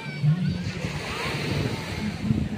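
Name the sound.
waves splashing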